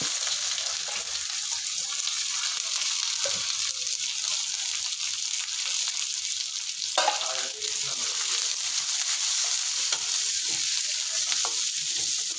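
Sliced onion and curry leaves frying in oil in a pan, a steady, close, loud sizzle throughout with occasional stirring scrapes and a brief clatter midway, no talking.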